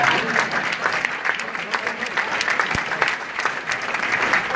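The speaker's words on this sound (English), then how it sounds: "You can applaud now." Steady, full applause from an audience at a patriotism and community awards ceremony, with thick overlapping clapping and a faint crowd murmur underneath.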